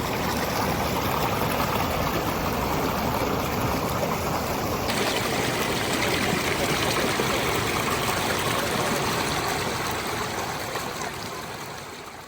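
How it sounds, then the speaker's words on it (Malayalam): Clear river water in Kullu Manali rushes in a loud, constant broadband roar, close by and unbroken for several seconds before easing slightly at the end, with no talking. "ആ പുഴയിൽ കുത്തിയൊലിച്ച് വരുന്ന വെള്ളമാണ് നമ്മളിപ്പോൾ കാണുന്നത്."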